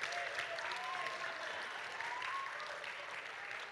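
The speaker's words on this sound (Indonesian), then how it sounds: "kami rasa ini adalah sesuatu hal yang adil kalau kita memberikan tepuk tangan yang meriah untuk utusan dari pasangan Anies dan Amin" Audience applause at an Indonesian 2024 election discussion event, fairly quiet and distant, a continuous even patter of many hands clapping throughout.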